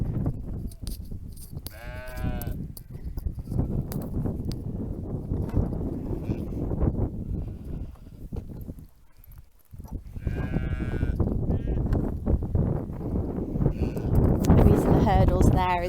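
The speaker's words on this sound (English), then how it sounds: "I have a couple of sheep who are escape artists, and given the chance they'll jump over the wall there" Sheep on Fair Isle bleat in short wavering calls near the microphone, several separate bleats over wind noise and a low outdoor rumble, with a person talking in between.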